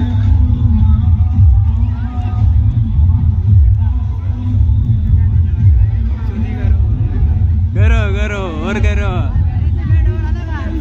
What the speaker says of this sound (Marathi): गाईस फुल गर्दी.